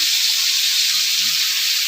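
Amudi fish dropped into hot oil in a kadai sizzle with a steady, close, bright hiss that holds evenly for about two seconds, with no talking.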